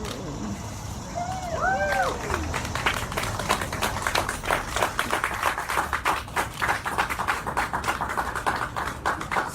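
Applause from an audience at the Augusta Convention & Visitors Bureau announcement of the "Come See Augusta" campaign, a dense patter of clapping that holds steady for several seconds, with some speech-like sounds early on.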